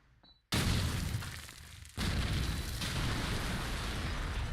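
A grenade blast in Call of Duty 4, a sudden loud broadband boom followed by a second heavy burst and a long roaring tail.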